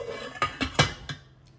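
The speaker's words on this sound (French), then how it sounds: "Je couvre bien avec le couvercle prévu pour la casserole." A saucepan lid set onto a pot of sushi rice cooking in water, giving a few sharp metallic clinks and knocks close by, spaced over about a second, then quiet.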